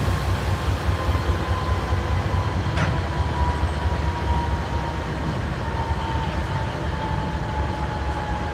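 A Norfolk Southern heritage locomotive, NS 8102, pulls into the Chattanooga area with a steady, loud rumble of diesel engine and rolling train noise. A faint high squeal runs across it, with one brief clank partway through.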